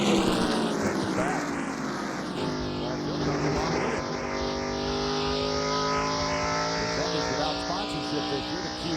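NASCAR Chevy race trucks roar around the Walt Disney World Speedway track in 1997, their engines a loud, continuous, shifting drone as several trucks race close by together with no letup.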